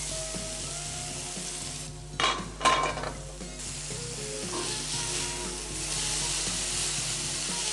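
Boneless chicken breast pieces fry in a pan with a steady sizzle, interrupted by a couple of brief clanks and scrapes as the pieces are turned, then a continuous hissing fry; no one talks.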